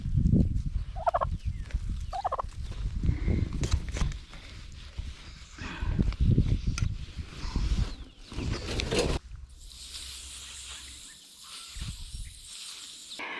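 A tom turkey gobbles in repeated bursts amid farmyard noise, with rustling and scuffling between calls.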